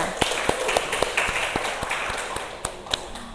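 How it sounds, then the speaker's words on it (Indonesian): Scattered hand claps from a small classroom audience welcoming a student group after its presentation, sparse and uneven taps rather than full applause, moderately close. "Oke, tepuk tangan untuk kelompok 3."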